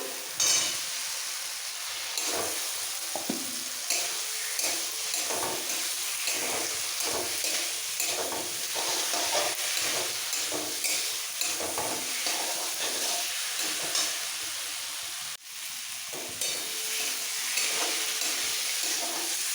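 Fried potatoes being stir-fried with spices in a pan for a Bengali rohu fish head and cabbage ghonto, a steady close sizzle broken by repeated scraping stirs, no talk.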